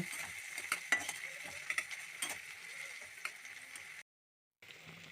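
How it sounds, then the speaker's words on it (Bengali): Vegetables with chopped green chilli and tomato sizzle and are stirred in a frying pan, a steady close frying hiss with a few sharp utensil scrapes, briefly cutting out near the end. "সবগুলো ভালো করে ভেজে নিচ্ছি।"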